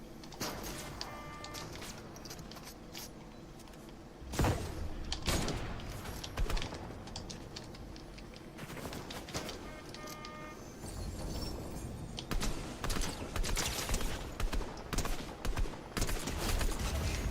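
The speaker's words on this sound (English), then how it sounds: "Are those the teamers shooting at me or what?" Gunfire in the video game Fortnite: bursts of shots crackle through the game mix, with sharper, louder volleys after a few seconds and repeated rapid firing toward the end, sounding fairly close.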